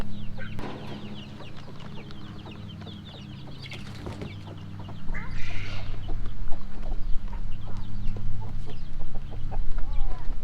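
Chickens and baby chicks cluck and chatter close by, with soft peeps and rustling that grow busier and louder in the second half.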